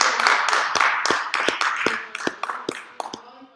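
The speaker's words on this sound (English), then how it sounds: "let's give Mr. Bob Boehm a big round of applause" Sparse audience clapping for a magician at a live show, a scattering of distinct claps, fairly close and moderately loud, thinning out toward the end with faint voices underneath.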